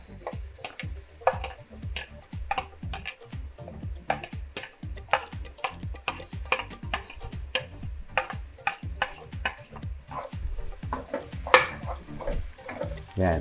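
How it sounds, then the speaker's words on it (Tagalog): Onion sautés in a pan for pork afritada. A spatula scrapes and taps in a quick, regular rhythm over a continuous sizzle. "gisa lang po natin yung sibuyas muna."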